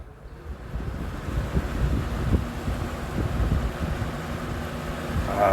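A 1983-1984 Galaxy model 3713 electric fan running on high speed gives a steady, fairly loud rush of moving air, with a broad whooshing hiss that swells slightly toward the end, close to the microphone and with no talking.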